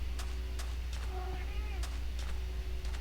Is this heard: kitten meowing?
yes